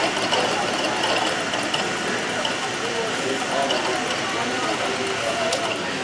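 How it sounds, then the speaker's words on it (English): A grain mill at a state fair wheat display grinds wheat kernels into flour, a steady, loud mechanical whir with a rhythmic rattle that holds unbroken throughout while people talk over it. "We turn it on, we put those wheat kernels in the top, and it comes down and it grinds it right there"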